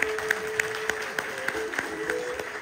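Crowd applause at a groom's shaving celebration during Akçaabat liberation festivities, steady clapping with sharp rhythmic beats cutting through, moderately loud outdoors.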